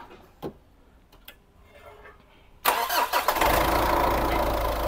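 A Volkswagen Beetle engine cranks after a few faint clicks, then catches at once and runs loud and steady at a rough idle.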